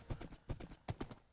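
Skeleton horse hooves in a video game clip-clopping in an even four-beat rhythm, close and clear with no talk over them.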